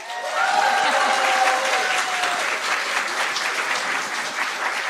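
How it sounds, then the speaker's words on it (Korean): Audience applause at a Korean political party rally for a presidential election, a dense sustained clapping from a crowd that stays loud throughout, with a faint tonal hum over the first seconds. "다시 한번 큰 박수 주시기 바랍니다"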